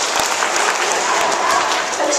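A crowd of schoolchildren in an assembly claps loudly as a group, a few sharp group claps standing out over the dense crowd noise.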